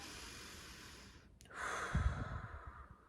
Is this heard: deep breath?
yes